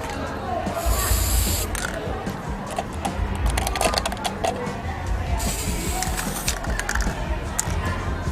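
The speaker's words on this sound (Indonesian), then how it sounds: "kita semprot dengan cat semprot gitu" A spray paint can hissing onto a small mini pot in two steady bursts, close and fairly loud, with clicks and handling noises in between and voices speaking over it.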